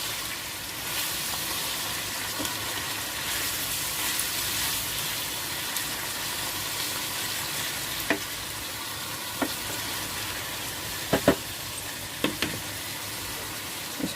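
Brinjal palya, an eggplant stir-fry, sizzles steadily in a pan while a spoon scrapes and knocks against the metal with occasional sharp clicks.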